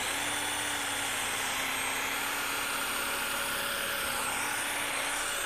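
A car polishing buffer spins at low RPM, producing a steady, even whirring hum with a faint high whine, running without a break at moderate volume.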